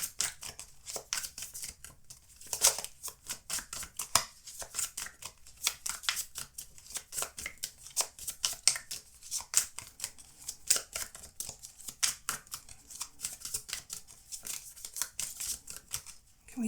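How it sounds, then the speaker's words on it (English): Tarot cards are shuffled and drawn from a deck, a fast, close run of crisp paper riffles and flicks that goes on steadily with no talk. "Can we have one card from this deck?"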